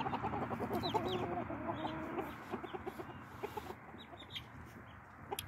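Several chickens cluck and murmur close by, a busy overlapping chatter of soft, repeated clucks that thins out toward the end.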